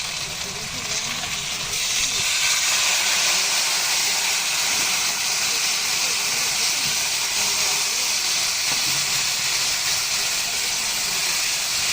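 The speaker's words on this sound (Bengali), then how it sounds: "এখন দিয়ে দিচ্ছি জল" Hot water poured into a pan of cooking fish curry with potatoes and aubergine brings a loud, steady rushing hiss of steam that rises after a second and carries on throughout.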